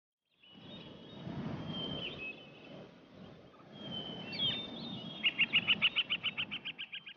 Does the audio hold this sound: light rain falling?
no